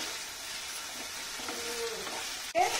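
Ingredients fry in hot oil for an Afghani egg curry, a steady soft sizzle throughout, ending in a sharp clack and a brief louder burst.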